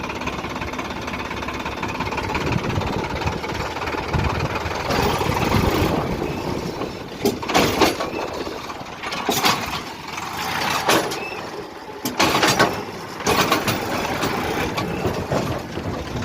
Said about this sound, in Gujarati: અને બહુ ટ્રેક્ટરને મહેનત કરવી પડે